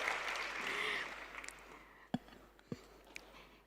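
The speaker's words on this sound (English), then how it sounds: "I want to give you all a round of applause" An audience at a business forum applauds, loud at first and then thinning out. A few scattered claps and a bump or two follow as the room settles.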